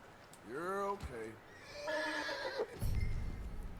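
A horse in Red Dead Redemption 2 gives a clear whinny, then a second longer neigh and a snort, close by in a snowy setting, followed by a brief hoof step.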